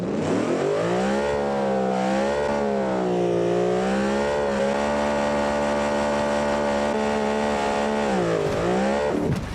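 A loud V8-powered car runs down a drag strip, its engine roaring with sweeping pitch rises and dips as it shifts through gears, continuous and close with no talk.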